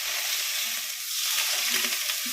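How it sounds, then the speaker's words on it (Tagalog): Heated olive oil poured onto shredded carrot salad sizzles with a dense, crackling hiss, close and steady across a couple of seconds. "lagay natin yung ating pinainit na olive oil"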